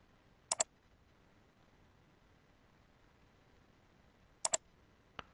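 Mouse clicks while files are selected and dragged on a Windows 7 computer: a quick double click near the start, another double click about four seconds later and a single faint click at the end, over quiet room hiss.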